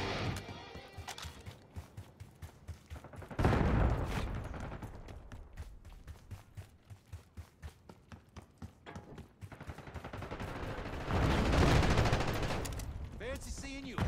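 Rapid gunfire in Call of Duty: Black Ops 6, with bursts of sharp shots stuttering in quick rhythm and two louder sustained stretches of heavy fire, moderately loud throughout.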